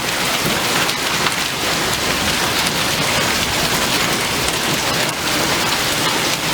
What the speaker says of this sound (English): This time it's marble-sized hail. You can hear it hitting the balcony.